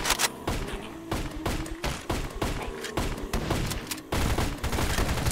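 Rapid bursts of video game weapon fire with heavy recoil, sharp repeated shots in clusters with brief pauses between, loud and close, with a voice faintly present underneath.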